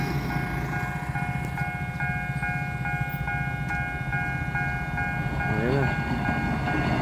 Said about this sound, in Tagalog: Ano siya, local train.